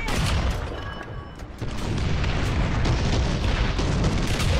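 Incoming fire striking the player's vehicle in War Thunder: dense booming impacts and crackling bursts, quieter for a moment then loud and continuous, with no voices.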